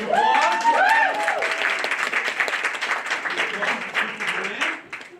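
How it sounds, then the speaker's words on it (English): Applause at a school board meeting, a crowd clapping steadily for several seconds while a voice talks over the start and the clapping continues underneath. "Big applause!"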